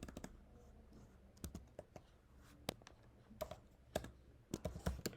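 Keys clatter on a computer keyboard while code is typed, in irregular bursts of crisp clicks and taps, quiet and close, with no speech over them.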